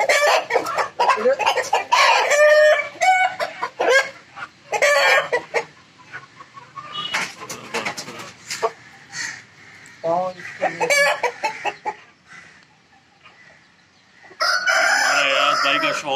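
Aseel roosters at a breeding setup crow loudly and repeatedly at close range, with clucking and other fowl calls in between and a few quieter gaps.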